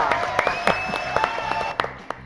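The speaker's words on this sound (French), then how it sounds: "Applaudissements pour Jennifer Moret" Studio audience applause for a guest on a French talk show, quick uneven clapping with distinct individual claps over a soft background tone, fairly close and moderately loud.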